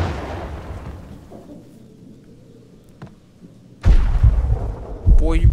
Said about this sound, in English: Oh my goodness! There's a grenade!